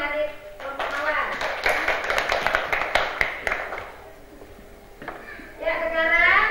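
Children in the Mawar group clap hands in a classroom, a dense burst of sharp taps lasting a few seconds, framed by children's voices talking before and after.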